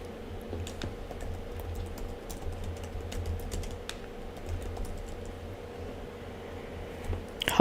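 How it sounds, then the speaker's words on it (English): Steady close clatter of fingers typing on a computer keyboard, quick irregular key taps continuing throughout over a low room hum. "Let me type that in."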